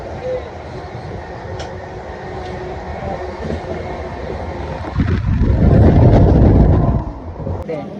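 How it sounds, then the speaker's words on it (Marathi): Rumbling of a passenger train in motion, a steady broadband roar that swells louder for a couple of seconds near the end before settling, heard from inside a carriage. "गाईज आता ट्रेन चालू झाली."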